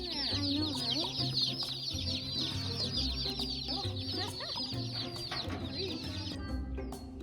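Dozens of meat chickens packed into a shipping box at a post office cluck and peep loudly and constantly, a dense close-up chorus of chirps over low clucking throughout.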